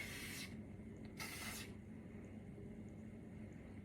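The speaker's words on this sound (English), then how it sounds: "Position it and then spray it." Two short hissing bursts of hairspray from an aerosol can, the first about half a second and the second slightly longer, close by over a quiet room hum.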